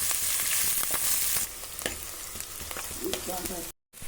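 Chopped onions sizzling in a hot pan for foxtail millet upma while a spoon stirs them, a steady broadband crackle with occasional scraping clicks, close and fairly loud, broken by a brief silent gap near the end.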